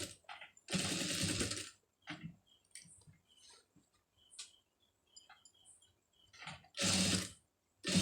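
A sewing machine stitches a scallop design along a sari border in short close bursts, with a long run near the start and another near the end, separated by quiet clicks and handling noises.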